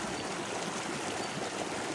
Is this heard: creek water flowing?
yes